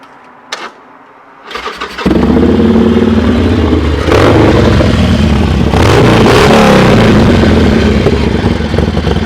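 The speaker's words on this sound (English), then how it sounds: "Let's hear the Sportster." A Harley-Davidson Sportster motorcycle starts after a couple of cranking bursts, then runs loud and close with a throbbing idle and several swelling revs.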